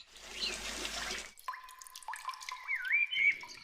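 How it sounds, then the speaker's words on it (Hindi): Water fetched from a waterfall splashes onto a clay pot house in a jungle cartoon, a dense pouring rush for over a second, then dripping and trickling sounds with light whistly tones. "कालू अपना मिट्टी का घर ठंडा रखने के लिए झरने से पानी लाकर उस पर डाल रहा था"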